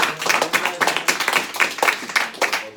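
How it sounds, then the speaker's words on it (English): Audience clapping at a live money-making seminar, a small crowd with distinct rhythmic claps pulsing evenly throughout, close and moderately loud, with no talking. "Give Mike a round of applause for hooking me up with a bookmark."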